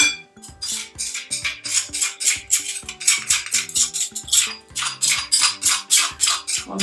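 A utensil stirring and scraping tomato sauce ingredients for meatloaf in a bowl, with quick rhythmic clinks and scrapes repeating steadily and fairly close, with no speech.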